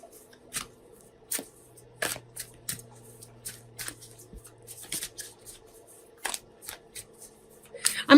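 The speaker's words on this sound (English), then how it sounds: "I'm shuffling our Sacred Traveler Oracle cards." Sacred Traveler Oracle cards are shuffled by hand in a series of crisp riffling bursts at irregular intervals, close up, over a quiet steady background hum.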